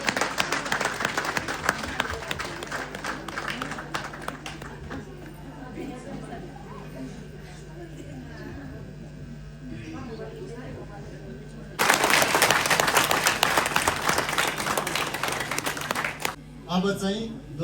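Guests at a rural Christian wedding in Nepal break into a burst of clapping as the groom unveils the bride. The applause comes loud and dense for several seconds after a stretch of spoken ceremony.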